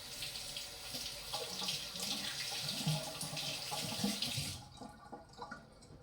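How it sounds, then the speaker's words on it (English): A tap runs steadily as natural whetstone slurry is rinsed away, a close splashing gush that cuts off near the end, leaving a quieter room. "Let's give that a bit of a wash off."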